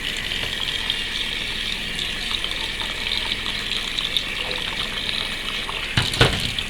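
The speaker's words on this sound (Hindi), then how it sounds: "फिर उसके बाद फिर दोबारा पानी डालें।" Water poured onto rice for washing in a kitchen, a continuous nearby gushing stream with faint clicks and a louder clatter near the end.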